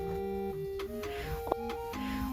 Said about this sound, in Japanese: ミシン上手にかかったね。